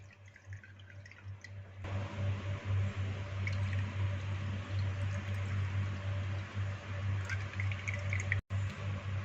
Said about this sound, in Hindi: इसे 3-4 पानियों में हम इस तरह से आहिस्ता से निथार लेंगे